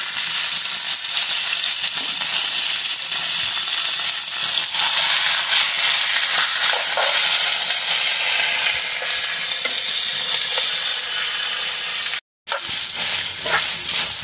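Beef shank simmering in a pot gives a steady, loud bubbling hiss with faint stirring clinks throughout, broken by one brief dropout near the end.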